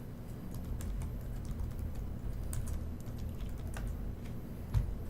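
Steady, moderately paced typing on a computer keyboard as an IP address is entered, a run of soft keystrokes over a low background hum, with no voices.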